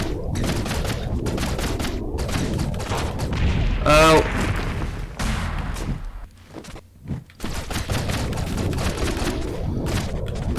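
Shotgun blasts in the video game Owlboy, a run of sharp broadband bursts over busy game sound, with a rising whistling tone around the middle and a brief quieter gap before the firing resumes.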